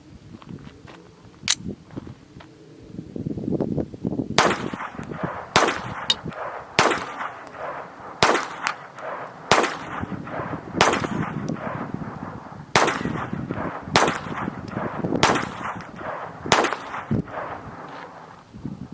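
Rapid string of sharp gunshots from a Smith & Wesson Victory .22 pistol firing standard velocity rimfire ammunition, roughly a dozen cracks at a steady, quick pace, moderately loud and close, with no talking.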